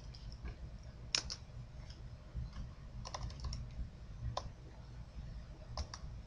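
Mouse clicks while editing a web page, a few sharp, faint taps scattered over a low steady background hum, with no talking.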